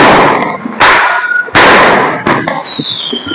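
Diwali firecrackers go off in Surat: a few loud, sharp bangs spaced roughly a second apart, each followed by a ringing decay and crackle, with a high whistling tone near the end.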